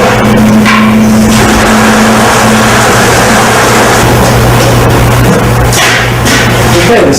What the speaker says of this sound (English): Pump the whole container in.